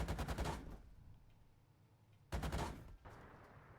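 Two short, loud machine gun bursts fire in a game from an armored vehicle in Gunner, Heat, PC, rapid rounds with a quiet gap between them and a faint echo after each.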